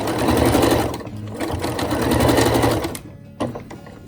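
A home sewing machine stitches steadily along a skirt vent, its loud rapid mechanical whir running for about three seconds before stopping, followed by a brief clunk of the mechanism.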